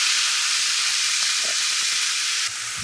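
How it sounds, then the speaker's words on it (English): Vegetables sauté in a hot pan for omurice with a constant close hiss and crackle and a faint clink near the end. "Just gonna saute these up real nice till they get nice and sauteed."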